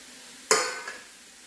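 Chopped tomatoes hit a hot frying pan with a sudden loud sizzle that quickly fades, followed by a faint scrape of stirring.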